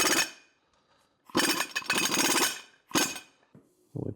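Impact gun with a homemade socket hammering loose the main wheel bearing nut on a 9-ton off-road racing axle, heard as several loud, rattling bursts separated by brief pauses, close up and without talk.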